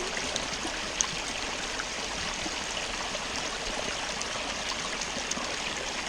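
A small spring stream trickles out of the bush beside the Waiau River in Te Urewera, New Zealand, giving a steady, close, broadband rush and gurgle with no pauses and no voices.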